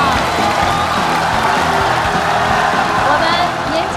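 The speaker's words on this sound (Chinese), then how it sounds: "大家掌声送给小朋友，好吗？" A TV studio audience applauds for a three-year-old child on a variety show, with dense, continuous clapping and a few cheers.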